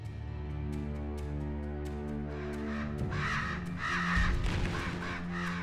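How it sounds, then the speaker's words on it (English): Crows cawing repeatedly in the video game Selma and the Wisp, harsh overlapping calls over a steady droning game soundtrack, growing busier and louder toward the end. "Look at all these freaking crows."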